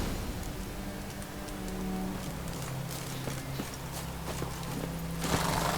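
Geralt's horse Roach walking in The Witcher 3, hooves clip-clopping steadily at a moderate pace over a low steady ambient bed, no voices.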